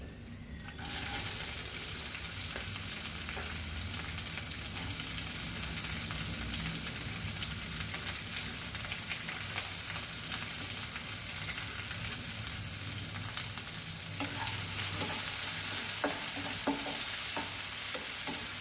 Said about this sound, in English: And now we will add our onion to this.